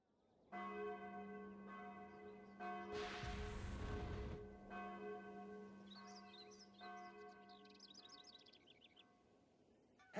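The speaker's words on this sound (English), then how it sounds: "Tal, the alarm bells are ringing." Alarm bells ringing in the video game Sudeki, sustained tolling bell tones with a burst of noise partway through and faint chirping near the end.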